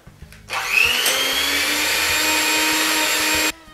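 Electric hand mixer blending cookie dough made with packed light brown sugar, a steady, loud whir running about three seconds, starting abruptly and cutting off cleanly.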